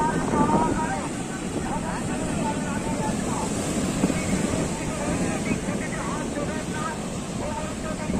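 Rough sea waves surge onto a beach at spring tide on a full-moon ekadashi, making a continuous churning wash with wind buffeting the microphone, while a person talks throughout.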